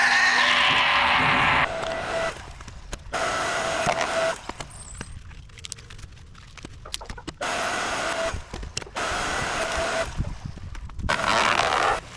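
Electric log splitter motor running steadily while it splits birch wood, a loud mechanical drone that cuts out and restarts several times, with quieter gaps between bursts.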